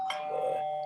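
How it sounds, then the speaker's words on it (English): Phone ringtone with a doorbell chime, a single short clear ding-dong tone sounding alone in quiet. "that's my phone's got a doorbell ring to it"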